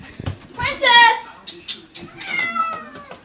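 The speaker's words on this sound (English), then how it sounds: "that's my deranged, stupid dog. Who sounds like a cat." A dog gives odd, cat-like meowing cries, several drawn-out wails close by, while children and other voices talk and play around it.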